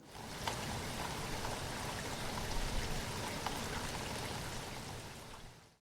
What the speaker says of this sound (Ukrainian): Давайте послухаємо, як співає літній дощик.